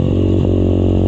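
Underbone motorcycle engine while riding, a loud, steady, close droning hum with a strong low tone, holding even throughout with brief clattery ripples early on.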